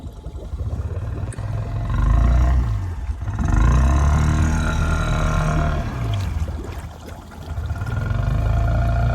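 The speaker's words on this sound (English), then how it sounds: "I just like the sound of the snorkel." A deep, rumbling engine roar from a vehicle idling in neutral swells and dips in waves through its snorkel intake, booming and resonant up close, with no talking.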